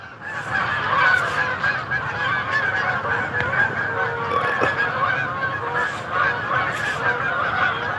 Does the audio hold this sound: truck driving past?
no